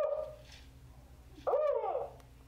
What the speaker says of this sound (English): So that's the typical four-note for a spotted owl. That's a male call, a deeper pitch.